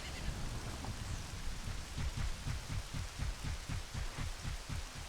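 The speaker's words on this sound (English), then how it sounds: "Horse in the rain." Steady rain pours in the Zelda: Majora's Mask game world near a horse at Romani Ranch, a dense even hiss over a repeating low rhythmic thumping, continuous and fairly quiet throughout.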